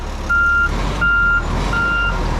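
A concrete truck backing up on a pour site sounds a loud, close reversing alarm: three evenly spaced beeps over the low rumble of its idling engine, with no voices.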